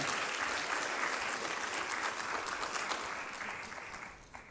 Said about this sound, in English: So one final round of applause for all of the researchers